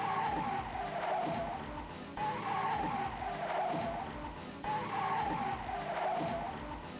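Car tires skidding and squealing during a car chase in a 1988 action movie, three long loud screeches in a repeating pattern, each running a couple of seconds with engine noise beneath.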